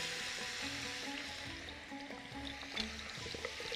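Onions frying in a pan, giving a continuous broadband sizzle with faint tonal kitchen hum beneath, steady and close throughout.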